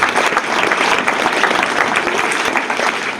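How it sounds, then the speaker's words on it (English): Students at a careers day at a secondary school in Uganda clap together in dense, sustained applause that stays loud and even throughout. "Kindly clap for yourself."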